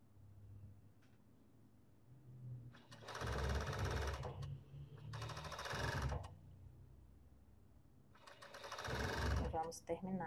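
Sewing machine stitching a long-sleeve robe in three bursts of rapid, buzzing mechanical chatter separated by pauses, loud and close, with a voice speaking faintly in the quieter gaps.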